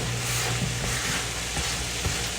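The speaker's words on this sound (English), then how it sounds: "Now I'm going to toss in some peppers and onions." Peppers and onions sizzle steadily in a big pot, a dense continuous frying hiss close up and fairly loud throughout, with faint stirring underneath and no voices.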